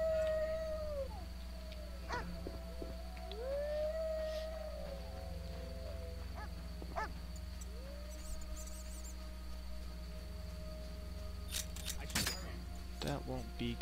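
Dog howling in The Witcher video game, several drawn-out rising and falling howls at moderate volume over a steady low game ambience, with a few scattered clicks and sharp noises.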